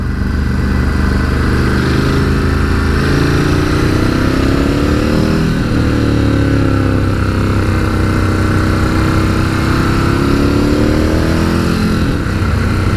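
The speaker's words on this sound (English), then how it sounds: "the bark out of this exhaust" A 2019 Ducati Scrambler 1100 motorcycle engine rumbles steadily with a deep, throaty exhaust note, rising and falling as it revs over continuous road and wind noise in Tuscany.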